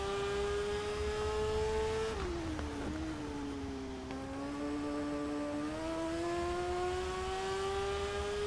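A motorbike engine in the TT Isle of Man racing game holds a steady high whine, dips as the bike rolls into a corner, then climbs back up as it accelerates. It runs loud and continuous with no talk over it.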